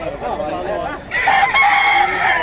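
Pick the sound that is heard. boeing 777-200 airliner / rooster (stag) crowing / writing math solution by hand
rooster (stag) crowing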